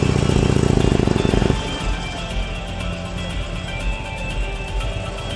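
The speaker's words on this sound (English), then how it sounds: "I can release the clutch and accelerate away, releasing the back brake, and off I go" A motorcycle pulls away uphill as the clutch is released, its engine revving loudly at first and then settling into a steady, close drone as it moves off, with no talking.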